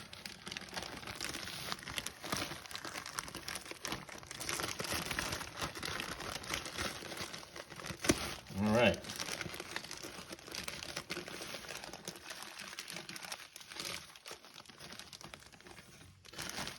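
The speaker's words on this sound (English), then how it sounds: "we gotta just see how well I can rip open potting soil using nothing but my fingers" A plastic bag of Dollar Tree potting soil is torn open by hand, without scissors, giving a long stretch of steady crinkling and rustling plastic with a sharper tearing burst partway through, close up and with no talking.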